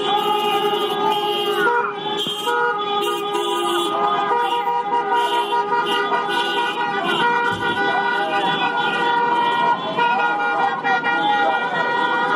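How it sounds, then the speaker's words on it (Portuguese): Car horns blare in a dense, continuous chorus as Bolsonaro supporters stage a honking protest at the Plano Piloto bus station in Brasília, with steady crowd noise and voices mixed in throughout. "os apoiadores do Bolsonaro realizaram buzinaço na rodoviária do Plano Piloto"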